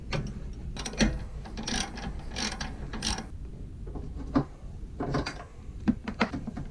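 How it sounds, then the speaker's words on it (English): Bull bar bolts being tightened on an Isuzu D-Max with a ratchet wrench, giving bursts of rapid mechanical clicking in several separate runs, fairly close and moderately loud, with no talking. "tighten the bolts up"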